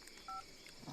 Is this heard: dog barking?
no